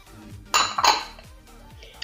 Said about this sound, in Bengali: বাটিটাকে এখন আমি ঢাকা দিয়ে রেখে দেবো।